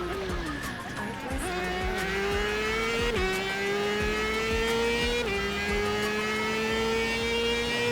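A Mazda MX-5 race car in the iRacing sim sings a loud, continuous engine note that climbs steadily through gears, with sharp pitch drops at each upshift and a faint tire squeal underneath.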